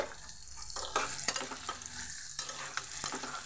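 Garlic cloves and tamarind fry lightly in a pan with a continuous close sizzle, broken by several sharp scrapes and clicks of stirring.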